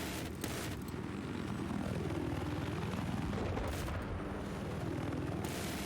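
Military helicopters in a competitive video game match close in on each other at point-blank range. Rotor and engine tones swoop up and down under a steady roar, with bursts of gunfire mixed in and no talk.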